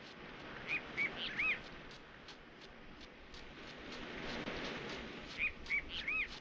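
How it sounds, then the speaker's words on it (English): Several birds call in the video game Aidyn Chronicles: a few short whistled chirps in two clusters over a soft, steady ambient hiss, fairly faint and with no voices. "Cries of many birds."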